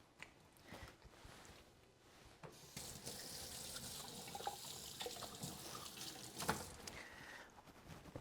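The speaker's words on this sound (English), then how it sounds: "Let me just wash my hands." Kitchen tap water running into a sink while hands are washed, quiet at first, then a fuller steady splashing flow with brief spatters and knocks as hands move under the stream, close and fairly soft.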